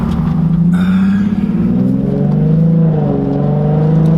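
Nissan 370Z fitted with a loud Tomei exhaust revs and drones, a close, heavy low rumble that rises and falls in pitch with a rasping edge, with no voices over it.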